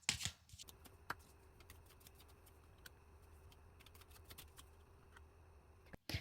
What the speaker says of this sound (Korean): 일단 구체적으로 좀 더 카드 뽑아보도록 하겠습니다.